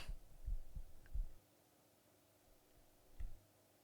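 Faint heartbeat ambience in a video game, low muffled thumps in a loose double-beat rhythm, then a pause and a single further thump, soft and alone.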